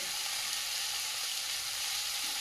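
Greens tossed into a pan with already-fried crab give off a steady, even sizzle from start to finish, close and moderately loud, with no voices.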